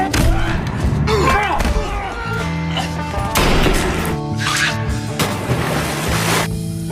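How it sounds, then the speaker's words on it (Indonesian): A fistfight in a film scene between hired killers: repeated loud thumping impacts and slams, mixed with other score and effects sounds. "Adu jotos pun berlangsung."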